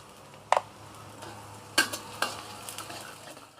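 Food frying in a pan after a pinch of salt goes in, a soft, steady sizzle under a few sharp knocks and scrapes of a utensil against the pan.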